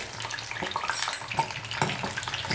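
Urad dal vada deep-frying in hot oil gives a steady crackling sizzle with scattered bright pops and spatters, close and moderately loud, with no talking.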